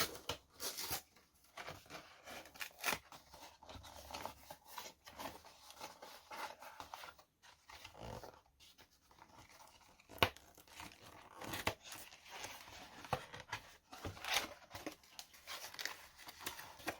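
A Double Masters card booster pack being torn open, faint close crinkling and ripping of foil wrapping in scattered bursts with brief pauses, nobody speaking.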